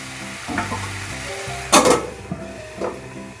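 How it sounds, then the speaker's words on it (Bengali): Mixed vegetables for a vegetarian Bengali labra fry in a pan, a steady close sizzle under occasional scrapes and clatters of stirring, with one louder burst of stirring midway. "এগুলোকে কিন্তু আমি ঢাকা দিয়ে দিয়েই ভেজে নেব আর মাঝে মাঝেই নাড়তে হবে"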